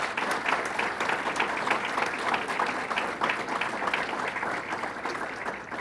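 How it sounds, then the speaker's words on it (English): Dense, steady applause from an audience at a New York State Fairgrounds redesign announcement, many hands clapping continuously at an even volume for the whole stretch with no speech over it. "So let's give them a round of applause."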